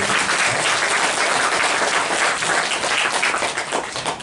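Loud, sustained applause from a church congregation, many hands clapping in a dense even roar that tapers slightly toward the end.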